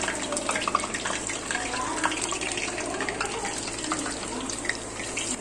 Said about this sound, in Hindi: ये देखें जी, चल रहा है फ्राइंग, तकरीबन होने वाला है।